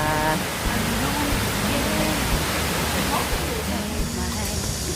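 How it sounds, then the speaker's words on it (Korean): Cheonjiyeon Waterfall on Jeju Island rushes in a loud, dense, continuous roar, with faint voices murmuring underneath the steady wash of falling water. "폭포 소리가 들리기 시작합니다"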